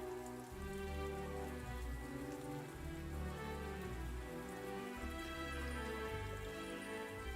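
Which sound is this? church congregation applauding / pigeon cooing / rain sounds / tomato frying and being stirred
rain sounds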